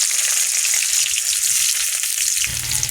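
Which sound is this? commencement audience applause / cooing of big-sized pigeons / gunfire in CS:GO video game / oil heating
oil heating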